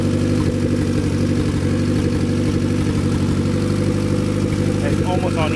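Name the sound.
boosted Honda Accord F23 engine idling while warming up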